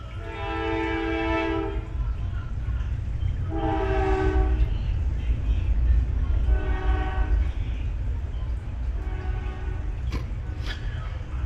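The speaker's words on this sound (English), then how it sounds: "We just had a train." A train passes nearby with several long sustained horn blasts separated by short gaps, over a steady low rumble of rolling wheels.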